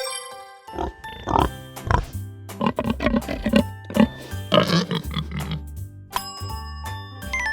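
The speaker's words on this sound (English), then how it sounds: "Pig." A pig oinks and grunts in a run of short, close snorting calls, mixed with bright ringing tones, with no talk.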